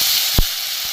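Grated ginger dropped into hot tempering spices for a vegetarian moong dal, a loud steady steamy hiss with a brief thump of something landing in the pan.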